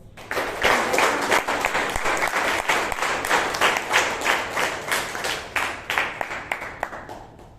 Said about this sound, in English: Let us all join together and give them all a huge round of applause.